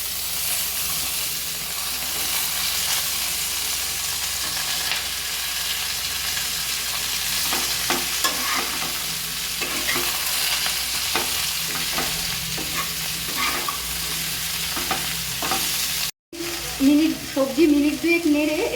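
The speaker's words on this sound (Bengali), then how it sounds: "সবজি মিনিট দুয়েক নেড়ে" Drained vegetables fry in hot oil with chilli and bay leaf in a pan for a fish-head chichinga ghonto, a loud, constant sizzle with spatula scrapes and knocks. Near the end there is a brief dropout followed by louder stirring.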